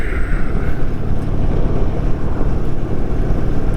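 An Indian Super Chief motorcycle held at full throttle in third gear gives a loud, steady, continuous engine roar with deep low rumble and no pauses.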